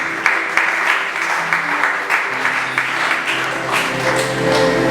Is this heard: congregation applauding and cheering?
yes